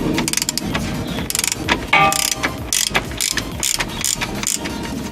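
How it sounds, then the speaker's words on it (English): A ratchet wrench loosens an 18mm fill bolt on the transfer case of a 2004 Chevy Avalanche, with steady rapid clicking pawl strokes in several close, loud bursts. "This is the fill bolt that we're removing"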